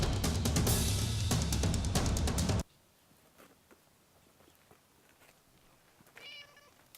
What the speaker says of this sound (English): There's a cat in the tree.